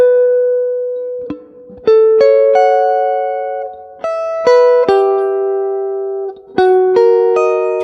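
Clean guitar chords ring out one after another, each struck crisply and left to sustain and fade, shifting through small three-note shapes; no voices.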